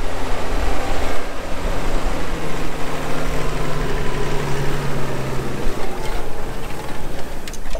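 A heavy tractor engine drones steadily and loudly throughout, a continuous low rumble with no pauses.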